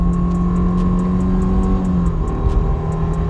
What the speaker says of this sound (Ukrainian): Демонструю вам її розгін від нуля до сотні.